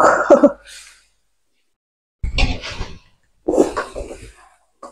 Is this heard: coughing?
yes